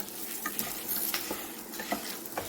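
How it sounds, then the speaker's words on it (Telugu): Garlic frying in a pan of oil, a dense close sizzle with soft stirring scrapes and light utensil taps over a brief stretch, no voices. "వెల్లుల్లిపాయలు కూడా దీంట్లో వేసేసి ఇప్పుడు ఇవన్నీ వేగిపోయినాయి కదండి"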